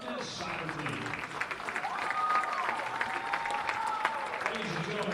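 A crowd applauds at a basketball game hall-of-fame ceremony, sustained clapping filling the gym under a public-address announcer's voice.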